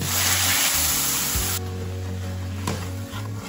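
Onion and garlic paste sizzles in hot oil with bay leaf and whole garam masala, a loud, steady hiss under a low droning hum, with no voices.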